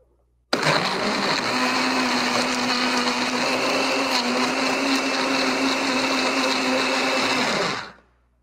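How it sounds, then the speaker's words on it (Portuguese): A blender with pineapple starts abruptly and runs steadily at high speed with a loud, constant whirring motor hum, then cuts off near the end. "coloquei no liquidificador"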